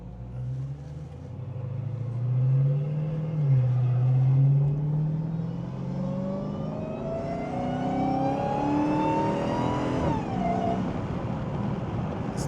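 The stock exhaust of a Dodge Hellcat, heard from inside the cabin, rises from a deep rumble into a climbing, sustained rev, steadily increasing in pitch before a brief shift and continued pull.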